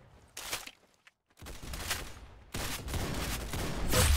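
Gunfire in the Roblox game Arsenal, several loud bursts of rapid shots separated by short gaps, close and sharp with no talk.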